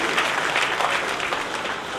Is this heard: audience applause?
yes